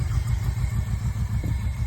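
A rough, uneven car engine idling on three cylinders during a WRC road car build, a low pulsing loping throb with irregular beats, alone and fairly close.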